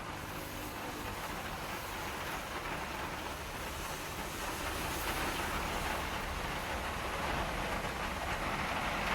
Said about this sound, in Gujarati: વરસાદ ભાઈ ચાલુ થઈ ગયો છે